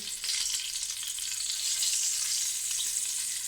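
Close, continuous sizzling of bacon frying in rendered pork lard, a bright crackling hiss with small pops that stays loud and steady, alone without talk.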